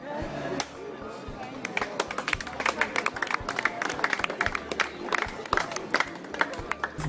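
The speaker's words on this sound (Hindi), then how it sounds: "और तालियां भी बजाते हैं" Magic-show audience clapping and murmuring after a sword-swallowing trick, a dense, uneven patter of claps with crowd noise and some voices throughout.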